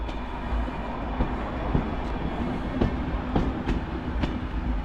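A special rail vehicle rolls through Wrocław Główny station with a steady low rumble and evenly spaced wheel clacks over rail joints, moderately loud and without voices.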